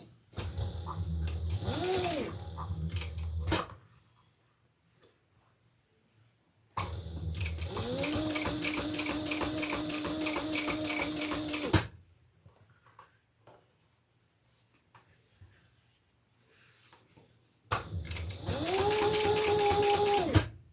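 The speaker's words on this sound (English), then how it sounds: "So let's turn this and top stitch" A sewing machine top stitches the lining of a leather crossbody handbag in three loud, steady bursts separated by quiet pauses, with a whining motor tone rising at the start of each run.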